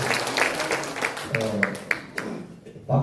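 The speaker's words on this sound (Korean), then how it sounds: "박수 치면 건강이 좋습니다" At a Korean political talk show, the audience gives scattered clapping in uneven bursts, with individual claps standing out, mixed with voices before tapering off.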